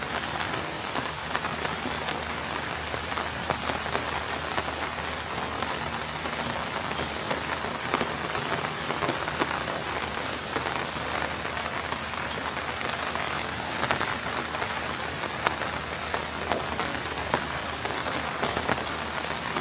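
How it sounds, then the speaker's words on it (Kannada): Heavy rain pours at a temple, a dense, even roar of drops striking surfaces that continues unbroken and loud throughout, with no voices. "ಇವಾಗ ಹೆವಿ ಮಳೆ ಇದೆ"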